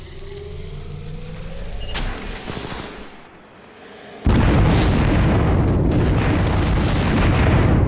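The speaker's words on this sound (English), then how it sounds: "Calling the airstrike." Airstrike explosions in the mobile battle royale game Apex Legends Mobile: a rumbling blast swells and fades, then after a brief lull a second heavy explosion hits hard and sustains a loud, roaring rumble.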